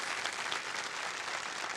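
Studio audience applause on the Hindi game show Kaun Banega Crorepati, a dense, even burst of clapping held at steady loudness for a couple of seconds.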